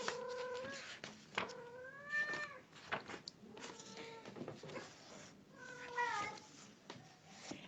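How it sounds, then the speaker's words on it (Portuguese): A pet cat meows repeatedly indoors, several drawn-out rising cries spread across the stretch with short pauses, fairly close and clear, with no talk over them. "se passar um gato aqui na frente, não se assustem, tá? É só a minha gata"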